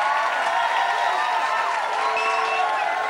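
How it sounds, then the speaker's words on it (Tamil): A studio audience at a televised singing competition applauds contestant Srihari, giving a steady close wash of clapping and crowd noise through the whole stretch, with a voice faintly mixed in. "ஸ்ரீஹரிக்காக எல்லாரும் ஒரு கைத்தட்டல் தட்டலாம்"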